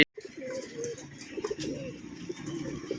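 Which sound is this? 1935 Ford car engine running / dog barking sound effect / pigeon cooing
pigeon cooing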